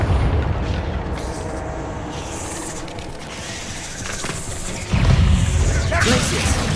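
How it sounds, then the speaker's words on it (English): Confringo spell explosion in Hogwarts Legacy: a crashing burst with a whoosh, followed by a sudden heavier boom partway through against game ambience. "Confringo"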